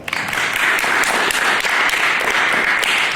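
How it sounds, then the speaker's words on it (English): An audience at an after-prom hypnotist show claps and cheers loudly in a dense, continuous burst of applause that fills the whole stretch. "Audience, let's show them what I mean with a nice big round of applause."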